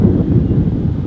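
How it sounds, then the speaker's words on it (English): Steady low rumbling wind buffets the microphone outdoors at a carp fishing spot, a loud continuous roar without pause and no voices. "Wind's picking up now, so the audio is probably terrible"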